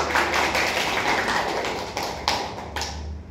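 Schoolchildren in a third-grade classroom clap their hands together in a dense, steady burst of applause lasting a few seconds, close and fairly loud, with a few sharper claps near the end.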